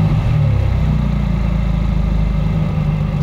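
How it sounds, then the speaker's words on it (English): A Mercedes-AMG GT Black Series with a flat-plane crank V8 runs steadily, a loud, close, constant engine drone with a deep low rumble that holds without revving for the whole stretch. "you can expect a different music note to be emitting from those round exhausts"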